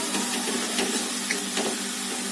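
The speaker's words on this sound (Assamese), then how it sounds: "এতিয়া বটি লোৱা পিয়াজ বিলাহী আদা নহৰু এতিয়া এইখিনি মই ভালকৈ লৰাই অলপ টাইম ভাজিম।" Ground onion, tomato, ginger and garlic frying in a pan, a steady loud sizzle and hiss with a few brief stirring scrapes, no talk.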